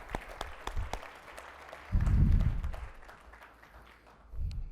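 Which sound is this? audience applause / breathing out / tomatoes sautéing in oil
audience applause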